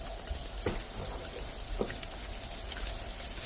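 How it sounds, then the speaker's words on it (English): Steady rain falling throughout a song recording, a dense even hiss of drops with a few louder splats, continuous and moderately close, no voices. "that's actual rain, rain, rain coming down upon him"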